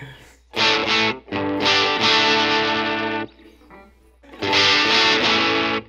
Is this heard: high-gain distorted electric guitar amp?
yes